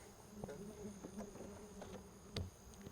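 Honey bees buzz in a steady, faint hum around an opened beehive on an Arkansas farm, with scattered clicks and light knocks of the frames over the drone.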